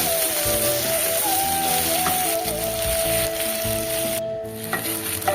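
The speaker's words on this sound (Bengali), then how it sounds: "সেই সাথে পেঁয়াজ কুচিগুলোও দিয়ে দিলাম, যে আলু ভাজার সঙ্গে পেঁয়াজটাও বেশ ভাজা হয়ে যাবে" Potatoes and chopped onions frying in hot oil in a pan, a loud, close, continuous sizzle with crackling and occasional stirring scrapes, no voices.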